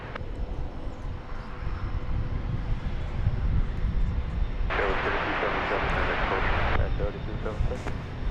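An American Airlines airliner rumbles at DFW Airport with a steady, moderately distant engine roar. A burst of radio chatter and a person's talk sit partly over the sound.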